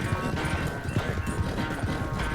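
A horse gallops in Red Dead Redemption II, its hooves drumming in a quick, steady rhythm close by, over continuous background noise.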